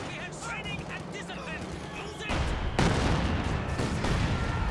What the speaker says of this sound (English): Detonates a landmine there.